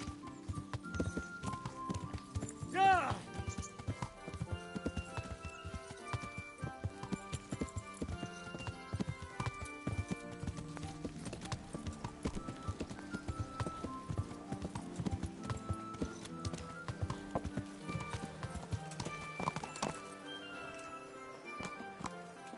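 Horse hooves clip-clop steadily in Kingdom Come Deliverance, a continuous rhythmic clatter of close, crisp strikes running throughout, with a brief rising whine near three seconds and a low game ambience underneath.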